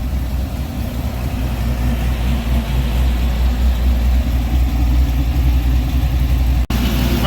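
An LS-swapped Chevrolet S10 pickup running and driving, giving a steady, fairly loud engine rumble with road noise throughout, ending with a brief sharp click.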